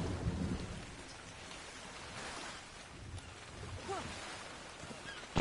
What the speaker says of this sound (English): Still raining, so that's all right.